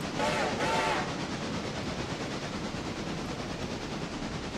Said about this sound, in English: And the train is now departing.